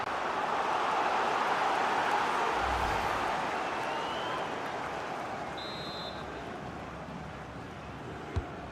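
A stadium crowd in the FIFA 20 football video game gives off a broad, steady roar of cheering that fills the background, fading slightly over several seconds, with a brief sharp thump near the end.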